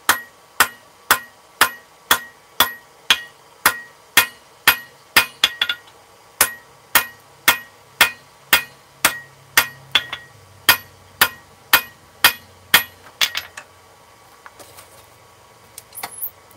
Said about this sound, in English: Use the edge of your hammer face like a fuller too if you want.